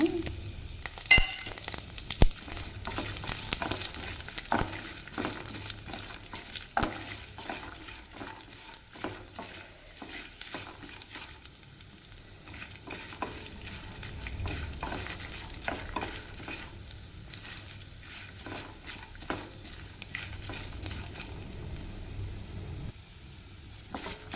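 Peanuts and roasted gram fry in oil, giving a steady close sizzle with constant stirring scrapes and clicks throughout, moderately loud and without talk.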